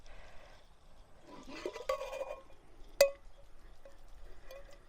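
Labrador tea water and leaves are poured out onto a rock outdoors in a brief quiet splash and trickle, followed by a sharp clink of the pot.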